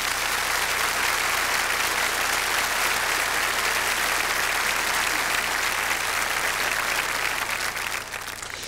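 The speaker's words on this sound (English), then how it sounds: "Will you applaud him, because he's probably listening to us right now." Sustained audience applause for a speaker, a dense, steady wash of clapping that stays loud and even throughout before easing slightly at the very end.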